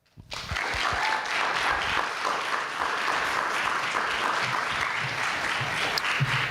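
An audience applauds a university speech and debate team at a showcase event, sustained dense clapping from a full room that starts abruptly and holds steady throughout.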